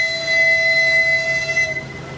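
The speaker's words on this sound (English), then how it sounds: "here comes the Tokyo DisneySea Transit Steamer" A Tokyo DisneySea Transit Steamer boat arrives with a loud, steady horn-like whistle tone held for nearly two seconds, then cut off, over a low rumbling engine background.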